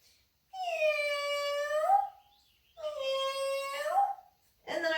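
A person imitates a cat's meow during a cat-cow yoga stretch. There are two long, drawn-out nasal meows with a pause between them, loud and close, and a third call starts at the end.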